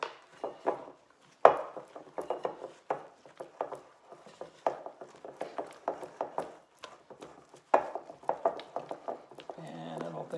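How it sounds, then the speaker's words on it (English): Banana nut cranberry bread batter being mixed by hand, heard as a close, steady run of thick scraping and knocking strokes in a bowl, repeating in quick irregular bursts without talk. "think I'm mixing it too much because the mixer mixes it even more than this with that beater going"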